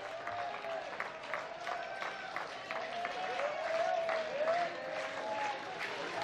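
A college baseball crowd at a stadium cheers and applauds with strike two on the batter in the final inning, a steady wash of clapping and raised voices, while a commentator talks over it.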